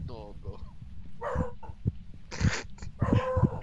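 A person imitating a dog's barking in a ghost-hunting video game, giving several short voiced woofs and yips mixed in with their own talking.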